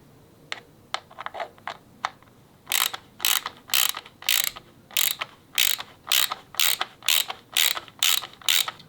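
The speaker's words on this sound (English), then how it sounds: "This is what we're going to be using to tighten these bolts." A ratchet fitted with a T27 star socket tightens bolts on a Harley-Davidson Iron 1200, first giving light quick clicks, then a run of loud, evenly spaced ratcheting bursts close up with no talking.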